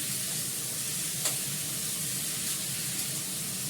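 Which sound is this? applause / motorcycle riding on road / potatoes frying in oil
potatoes frying in oil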